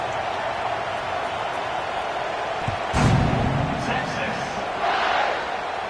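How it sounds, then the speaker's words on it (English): Football stadium crowd buzzes after a score, a steady far-off roar under a commentator's voice, with a brief thud and a louder swell of cheering midway. "this crowd is buzzing after that last score"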